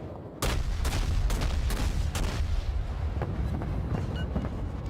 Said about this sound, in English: And continue blasting gunfire at him